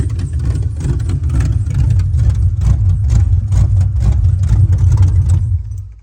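A carbureted Chevy small-block Vortec 350 V8 in a G-body car, smoking and just put in timing, idles loudly and close with a steady, lumpy pulsing beat, then cuts off and fades at the end.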